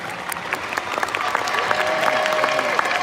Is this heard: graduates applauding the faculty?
yes